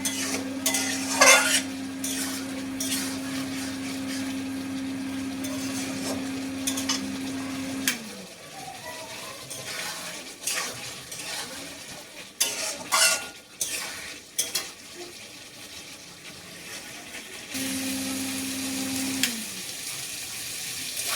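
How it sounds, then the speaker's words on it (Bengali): Spices and potatoes are sautéed while water is added a little at a time. Steady sizzling and stirring are broken by sharp utensil scrapes and clinks, and there are quieter stretches between bursts. "তো এখানে আমি অল্প অল্প করে জল দিচ্ছি আর ভালো করে কষিয়ে নিচ্ছি।"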